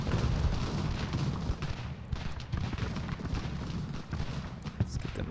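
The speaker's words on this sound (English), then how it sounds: "It's that canister fire is deadly." Canister artillery fire on an American Revolution battlefield in Ultimate General, a steady low rumble of cannon booms and crackling volleys under a speaking voice.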